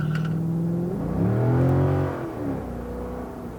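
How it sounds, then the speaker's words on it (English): A 2007 Corvette 3LT V8 revving through its exhaust, a deep throaty note that climbs and falls in pitch, close and loud, rising to a peak mid-clip before settling back to a lumpy idle-like drone. "The exhaust note is really nice, super deep with a lot of lopes in it, like a classic American V8."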